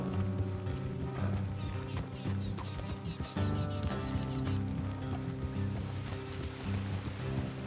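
Horse hooves clip-clop steadily along a trail in the video game Red Dead Redemption 2, heard at a moderate level beneath continuous background music.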